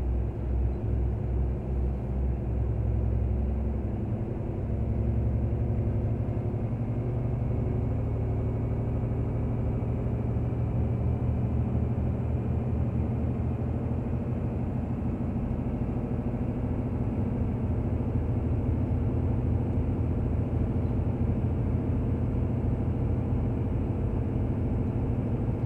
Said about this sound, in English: Obviously over revving it, probably not a good idea.